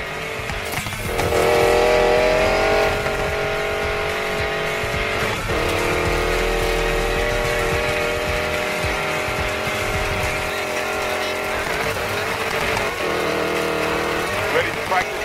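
A hypercar races in Need For Speed Payback, a loud, continuous high-revving engine whine that rises and falls with gear changes, with brief drops between shifts.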